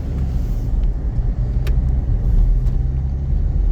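A Toyota Innova cruises at about 80, its engine and road rumble a loud, steady roar heard from inside the cabin, with a couple of faint clicks and no talking.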